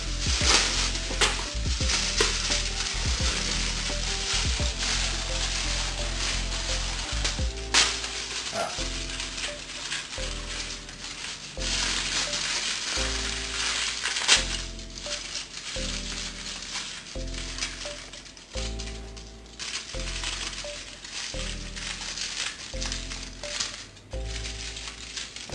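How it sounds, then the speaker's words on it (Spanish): Aluminium foil is crinkled and pressed around a homemade figure in steady, close rustling and crackling that runs throughout with small sharp crunches, while music plays underneath. "Espero que no les moleste el ruido del aluminio"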